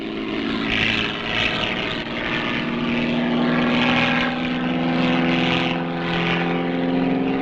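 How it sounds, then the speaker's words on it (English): A Stamper biplane drones steadily overhead during an aerobatic display, its propeller engine roaring continuously with a slow rise and fall as it maneuvers. "Bob Winter, one of the British team in the World Championships last year, flying a Stamper biplane"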